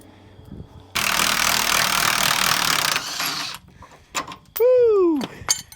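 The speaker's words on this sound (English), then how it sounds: "these battery powered impacts, they are no joke" Battery-powered impact wrench removing rusty bolts from a trailer's torsion axle: a steady, loud two-second burst of rapid hammering, followed by a softer tail. Then a voice whoops loudly.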